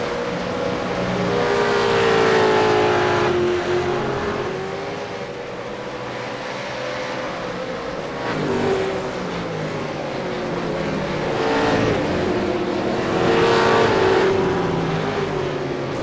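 V8 race cars racing at Silverstone, a loud, steady engine roar that rises and falls as the cars pass through the bends. Several cars are heard together and there is no talk.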